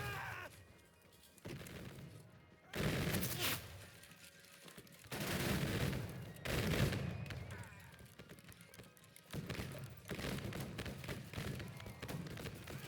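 Musket volleys in the Battle Cry of Freedom video game crackle in bursts, loud rolling fusillades separated by quieter gaps, with shouted commands mixed into the battle noise.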